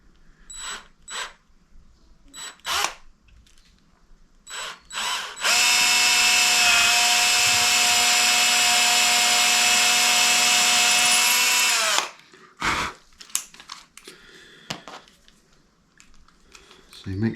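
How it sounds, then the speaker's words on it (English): Power drill fitted with a long bit whines loud and steady for about six seconds while boring into wood for a Rickenbacker 620/12 guitar build, framed by brief clicks, knocks and handling noises before and after. "make sure that you get a good register in your wood by drilling down"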